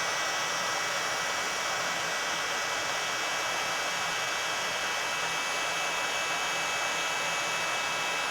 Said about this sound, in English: So I'm heating it from the back.